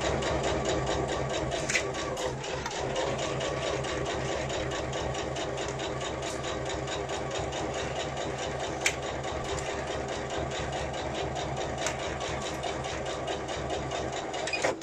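A sewing machine stitches a Lola clutch bag, running with a rapid, steady mechanical whir and fine repetitive needle clatter, close and continuous throughout with no talking.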